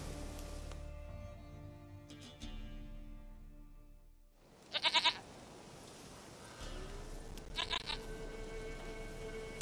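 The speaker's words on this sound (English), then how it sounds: "Goat of mine, dearest, sweetest goat." Goats bleat in The Witcher 3, with two short bursts of bleating over a droning musical game soundscape, moderately loud and near, separated by a quieter stretch.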